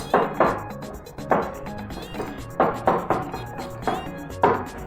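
A spoon repeatedly strikes a bowl while an egg is stirred into akara bean batter, giving a steady series of clinking taps at a roughly even rhythm, close and fairly loud.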